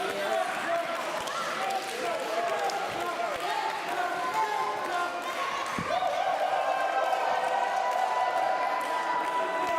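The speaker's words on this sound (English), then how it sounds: "The crowd erupting here for Edward Ripper" Wrestling crowd at a Five Factory Wrestling show in Gainsborough cheers and roars steadily for Edward Ripper, a dense, continuous wall of crowd noise with occasional thumps from the ring.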